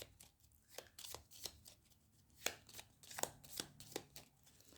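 Small tiles rattle and clack as a bag of Scrabble tiles is shuffled, with several sharp bursts of clicks at irregular intervals. The sound is fairly quiet and close, and no one speaks.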